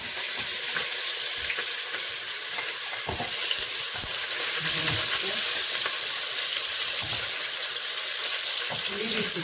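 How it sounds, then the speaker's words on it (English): Onion sizzles loudly in hot oil in a pan while cooking jollof rice, a steady, close, dense hiss with occasional stirring knocks underneath. "Leave it to fry until it's a little bit gray or something."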